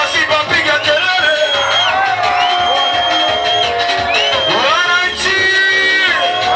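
At a live show, a crowd of sports fans yells and cheers loudly. Many voices overlap in rising whoops and shouts for the whole stretch.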